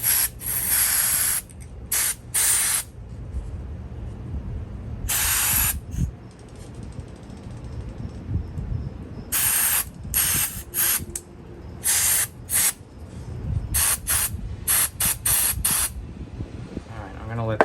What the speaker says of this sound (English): maybe we can get it going with the contact cleaner